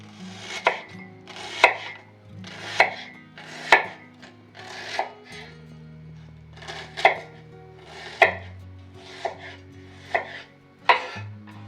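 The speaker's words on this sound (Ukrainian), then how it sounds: "Велика цибуля я розрізаю, половину розрізаю ще раз. На опі тоді нарізаю четвертинку." Crisp knife strokes chop through a large onion against a board, about a dozen sharp cuts in an uneven rhythm, close and clear with no talking.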